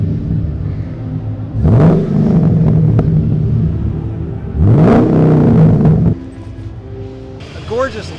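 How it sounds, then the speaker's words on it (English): A small Ford muscle car at a car show revs twice in loud, rumbling bursts, with a lower idle between them and a lighter blip near the end. "A gorgeous little Ford muscle car."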